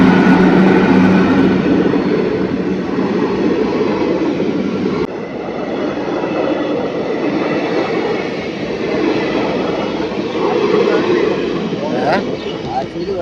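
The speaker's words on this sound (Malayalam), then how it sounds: "ആ വരുന്ന ട്രെയിനാ" An approaching train gives a loud, continuous rumble and clatter that holds steady and close for the whole stretch.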